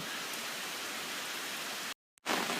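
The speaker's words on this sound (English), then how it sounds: "Raining." Steady rain hisses evenly and softly throughout, cutting out abruptly for a moment near the end before the patter resumes.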